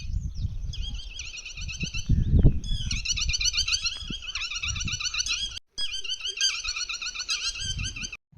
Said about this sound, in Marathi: ह्या जागेजवळ गेल्यानंतर मला पक्ष्यांचा मोठा आवाज ऐकू आला.